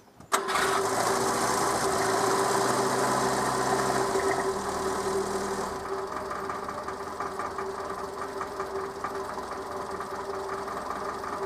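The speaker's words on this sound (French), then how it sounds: "quand je vais démarrer le moteur" A Renault 4L engine cranks and catches, then runs at a steady idle with a constant hum and faint knocking, the tone dropping and settling after a few seconds; loud and close throughout.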